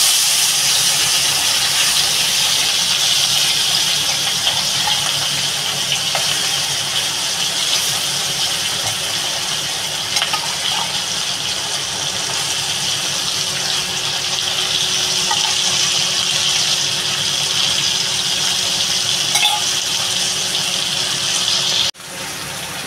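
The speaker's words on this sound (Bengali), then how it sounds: "মাছগুলো প্রায় আমার ভাজা হয়ে গেছে।" Small morola fish rubbed with salt and turmeric fry in hot mustard oil in a wok, giving a loud, even sizzle and hiss throughout, with a sharp knock near the end.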